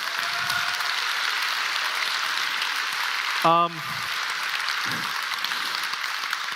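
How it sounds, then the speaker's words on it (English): An audience at a smartphone launch event for the Poco F6 series applauds with steady, even clapping that fills the hall throughout, and a single voice cuts in briefly partway through. "Before you guys clapped a bit earlier than I thought"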